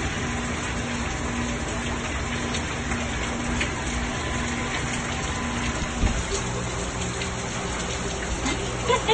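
Steady rain pouring outdoors on a hot day, a dense continuous hiss of drops on surfaces with a few louder splashes toward the end.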